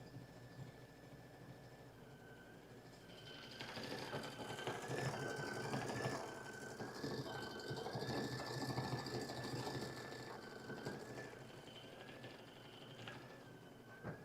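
A sewing machine stitches out a quilt applique, humming steadily with a fast mechanical chatter that grows louder midway and then settles, fairly faint and close, with no talk over it.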